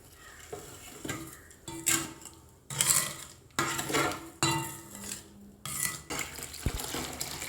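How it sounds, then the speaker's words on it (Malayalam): Wood ash is stirred into an egg-based garden fertilizer mixture in a container in irregular scraping, sloshing strokes, with occasional clinks, fairly quiet and without any voices. "ചാരം ചേർത്ത് കൊടുത്തിട്ടുണ്ട് അതൊന്ന് ഇളക്കിയെടുക്കാം"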